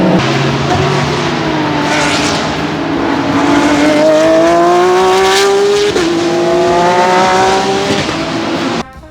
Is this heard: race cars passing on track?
yes